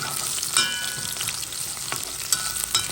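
Onion frying in a pan, a loud, dense crackling sizzle that runs continuously, with a few brief metallic ticks and stirring scrapes rising above it.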